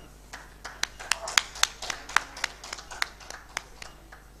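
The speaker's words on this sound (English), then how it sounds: "let's welcome him with a huge round of applause" Sparse, uneven hand claps from a small audience welcoming a moderator onstage at the Surya Nepal Kathmandu Kalinga Literary Festival, a few dozen sharp, fairly close claps over a low hum.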